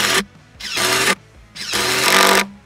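An impact driver in a head-to-head endurance test drives screws into wood, with three short bursts of loud rattling hammering, each under a second, separated by brief quiet gaps, close up.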